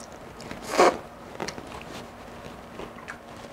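A single crisp crunch of a bite into batter-fried eggplant with cheese in the batter, fairly close, followed by a few faint crackles and quiet chewing.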